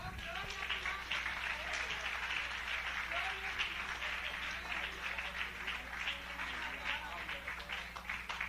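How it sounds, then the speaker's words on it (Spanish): Church congregation applauding together, a sustained dense wash of clapping at a steady level with a low hum underneath, lasting throughout. "Dale un aplauso al Señor."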